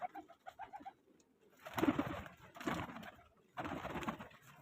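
Pigeons cooing near a competition of flying pigeons, soft repeated low coos up close, alternating with bursts of wingbeats and rustling, with no talking.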